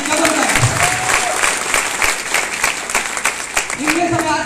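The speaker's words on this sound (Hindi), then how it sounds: "एक बार गुरु जी के लिए जोरदार तालियां होंगी, जबरदस्त।" Loud applause from an audience at an AWPL seminar honoring Guruji Narsih Chaudhary, steady clapping mixed with crowd noise and some voices, swelling again near the end.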